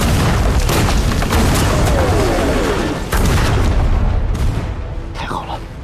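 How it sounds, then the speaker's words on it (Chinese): Artillery shelling in a war film: heavy booming explosions rumble continuously, with sharp bursts and blasts layered on top and voices shouting under the din. "这是咱们的炮"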